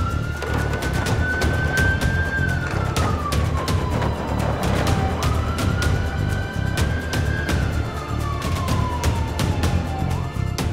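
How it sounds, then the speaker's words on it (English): A Land Rover Discovery emergency response vehicle runs its siren, a loud, steady wail rising and falling in two long sweeps over a rumbling engine and road noise. "put on the blue light and the sirens"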